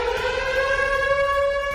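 A civil defense warning siren sounds during a test in Saint Petersburg, a loud, steady wailing tone with strong harmonics, holding level without a break and with no talking.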